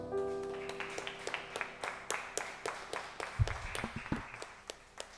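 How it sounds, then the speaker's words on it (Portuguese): Church congregation at a Sunday evening service in São Paulo clapping in a steady rhythmic beat, moderately faint and somewhat distant, about two claps per second, with a brief low thump midway. "Vamos aplaudir Jesus."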